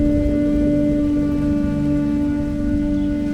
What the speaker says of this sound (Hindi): यहाँ बारिश बहुत ज़्यादा होती है